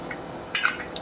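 Martini Rosso vermouth poured into a measure for a Bamboo cocktail, a short close splash and trickle of liquid arriving about halfway through a quiet moment.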